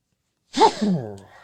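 A single sharp sneeze bursts out close to the microphone, followed by a brief trailing exhale into quiet.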